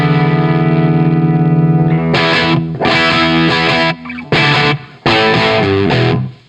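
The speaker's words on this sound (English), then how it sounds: "I'll kind of show you what the Marshall sounds like just straight to the guitar" Electric guitar played straight into a Marshall amp, crunchy distorted tone: a held chord, then several loud choppy strummed chords with short breaks between them, ringing with some room reverb.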